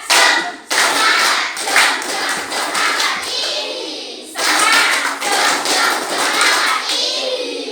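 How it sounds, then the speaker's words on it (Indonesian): Students in a class repeat the 'tepuk semangat' chant, sharp rhythmic hand claps in patterned groups alongside chanting young voices, loud and close, breaking briefly before a second round. "Lagi, sekali lagi. Tepuk semangat."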